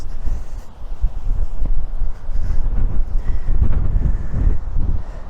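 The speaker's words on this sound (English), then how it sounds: "Maybe somebody could tell me when South Australia is not windy." Strong wind buffets the microphone on a South Australian beach, a loud continuous rumbling roar with gusty surges and no talk.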